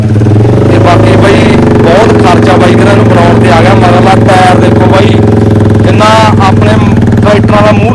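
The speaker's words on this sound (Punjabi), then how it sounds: "ਪਾਲਸਨ ਮੋਟਰਸਾਈਕਲ ਦਾ ਇੰਜਨ ਆ" A loud homemade motorcycle with a Bajaj Pulsar engine runs and revs steadily, its rumbling throb continuous throughout, with people talking over it.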